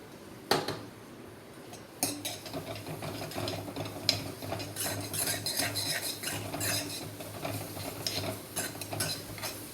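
Garlic and onion stirred in a pan for an Italian creamy cheese penne sauce, with a utensil scraping and clinking steadily against the metal over a soft, continuous sizzle, close and moderately loud with no talk.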